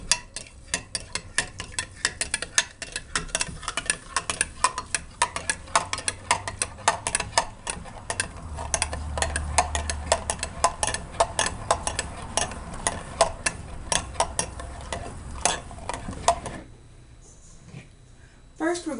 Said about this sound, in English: You're going to stir slowly.